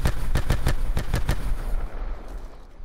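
A nine-bang stun grenade in an online shooter going off as a rapid string of sharp, loud bangs, about seven in quick succession, then a fading ringing tail.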